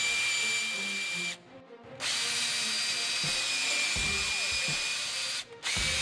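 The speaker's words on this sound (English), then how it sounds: "we're going to run that bolt up through each one of these holes to create new threads for the new bolts" A thread-cutting bolt is driven by a power drill into the frame holes of a Polaris RZR 900 to tap new threads for a Tusk UHMW skid plate, giving a loud steady motor whine with two brief pauses.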